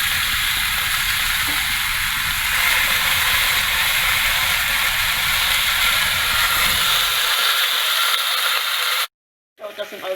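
Tuna steaks searing in a hot pan for a tuna salad, giving a steady loud hiss and sizzle that runs for about nine seconds before cutting off abruptly, with a brief burst of sound afterward.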